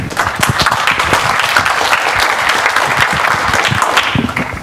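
Dense, steady applause from a conference audience in a lecture hall at an open-source software event, a loud, continuous wash of many hands clapping at close range that holds for several seconds before easing slightly at the end.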